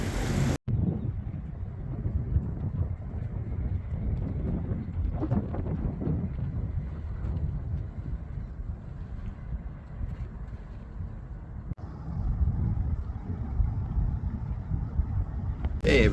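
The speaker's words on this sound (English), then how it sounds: "these two lovely people are giving us a ride with their dinghy" A dinghy's outboard motor drones steadily on a ride across open water, a continuous close rumble mixed with wind buffeting, running without a break throughout.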